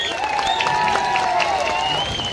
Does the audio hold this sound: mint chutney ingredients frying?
no